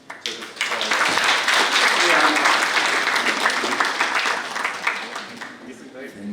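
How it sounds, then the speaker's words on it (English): An audience claps at a school workshop session as the next speaker is welcomed, a dense, loud, sustained round of applause that swells quickly and tapers off toward the end. "please give a big round of applause to this"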